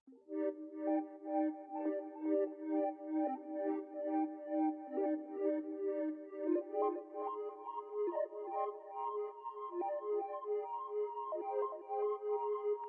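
Trippy synth key chords drenched in chorus, reverb and delay, sustained tones swelling and repeating softly and alone for the whole stretch.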